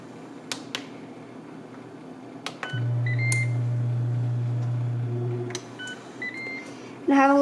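A Ninja Foodi air fryer being switched on gives short electronic beeps and clicks, then a steady low hum from the fan, with further brief tones toward the end.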